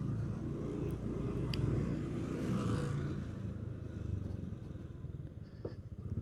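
A motorcycle rides along a village road toward the Cibubur City housing area, its engine a steady low rumble with passing road noise throughout.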